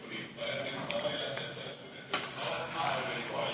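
A ladle stirs mango pachadi in an oily pan, with close metallic clinks and scrapes against the pan at an uneven pace. A voice talks alongside.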